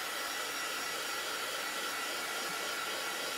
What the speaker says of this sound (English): I want to use my heat gun, so it's going to get a little loud.